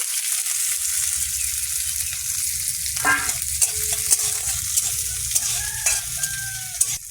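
Garlic and dried red chilli fry in hot oil as a tempering, giving a loud, steady close sizzle with stirring clatter. Faint rooster-like calls sound in the background.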